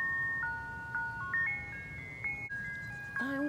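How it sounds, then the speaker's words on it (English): An ice cream truck plays its jingle, a bright electronic melody of stepped beeping notes repeating over a low rumble, moderately close and without talk. "Ice cream's here."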